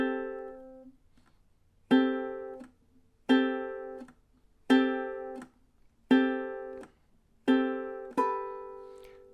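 A string instrument is plucked slowly with muted, damped notes, six evenly spaced attacks that each ring briefly and fade, with near silence between them.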